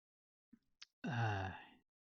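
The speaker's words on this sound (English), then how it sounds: "Pardon me while I yawn." A person gives one drawn-out, voiced yawn after a couple of small breaths and clicks, close to the microphone and otherwise quiet.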